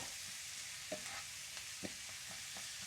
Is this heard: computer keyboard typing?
no